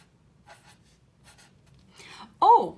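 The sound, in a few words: writing a word on the board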